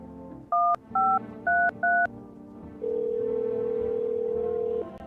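Telephone keypad in a video game, four short clear dialing tones in quick even succession followed by a longer steady tone lasting about two seconds.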